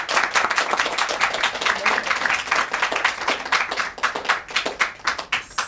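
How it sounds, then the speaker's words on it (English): A small room applauding girls at a student government press conference, a close round of many hands clapping in quick uneven bursts that continues steadily throughout. "Let's give them a round of applause."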